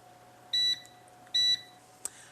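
Kitchen timer set while bread bakes in the oven, giving two short, clear electronic beeps about a second apart, followed by a faint click, over a quiet hum.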